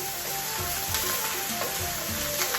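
Pork stir-frying in a pan for basil-style pad kra pao, a loud continuous sizzle with periodic scraping and tossing strokes from stirring, close up with no talking.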